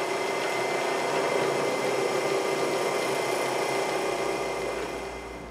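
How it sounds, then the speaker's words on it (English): A steady high-pitched drill whine grinds continuously into metal at close range, drilling a center hole on a metal lathe, then tapers off slightly at the end. "first I'm going to drill a center hole."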